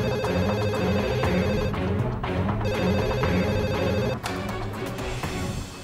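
A telephone rings loudly and steadily, its electronic ring pattern repeating with a brief pause partway through, with no one speaking.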